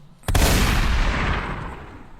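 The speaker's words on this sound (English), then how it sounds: "Just start hitting gunshots, please." Single loud gunshot sound effect with a sharp onset and a long booming, reverberant tail that fades over about two seconds, with no speech.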